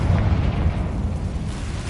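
A Confringo blasting spell in Hogwarts Legacy goes off as a heavy low rumbling boom, a short dense roar sustained for under two seconds at close range with no voices.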